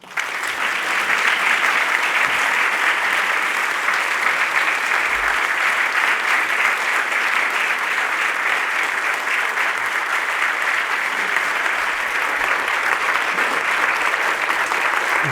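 A lecture audience applauds Professor Rajmohan Gandhi in a steady, full round of clapping that holds evenly for about fifteen seconds, with no talk over it.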